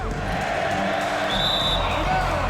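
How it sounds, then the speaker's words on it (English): The home crowd in an NBA 2K22 college basketball game between Wichita State and Gonzaga chants and cheers loudly. The roar is continuous, with a ball bouncing underneath. "Did you hear that home crowd?"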